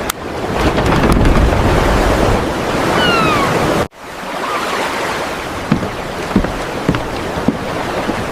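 Sea waves and wind in open water, a loud continuous rush that drops out abruptly partway through, then returns as a softer wash with scattered splashes.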